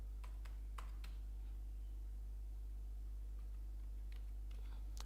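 A few faint, scattered key clicks on a computer keyboard as a date of birth is entered, sparse taps over a low steady electrical hum with no talking.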